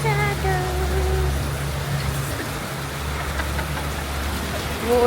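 Rain falls outside in a steady hiss, with traffic humming nearby and low tonal sounds in the background.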